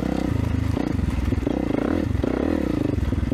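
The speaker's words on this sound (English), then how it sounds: "basically had a great time riding my dirt bike today" A 450 dirt bike engine runs at a motocross track, a loud, close, rough four-stroke drone that rises and falls with the throttle and carries clattering mechanical noise beneath it.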